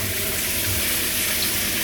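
Water pouring hard from a new shower head, a broad continuous hiss and splash like heavy rain, steady and close with no break and no voices.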